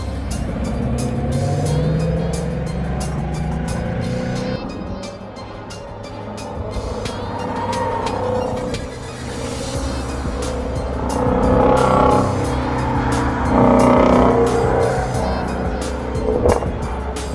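Shelby GT350 engine roaring and revving as it accelerates, pitch rising and falling through gear changes and corners, loud and close throughout.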